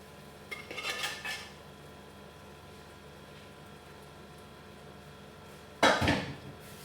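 Prawns go into a pan already holding fried ingredients and get stirred, giving two short bursts of clattering scrapes and metallic clinks, one near the start and a louder one near the end, over a low steady background.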